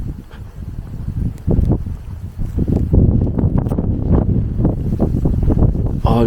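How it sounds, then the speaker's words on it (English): Strong wind at Dover Castle buffets the microphone in loud, uneven gusts and rumbles, roaring continuously with sharper bursts throughout. "Still windy here."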